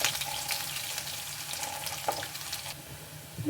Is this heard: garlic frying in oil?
yes